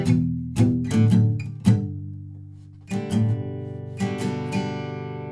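Acoustic guitar strumming a first line of chords, a series of bright full strums with ringing sustain, several accented downstrokes in a steady rhythm, clear and close with no voices.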